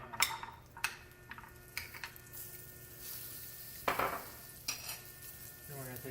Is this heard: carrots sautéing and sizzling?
yes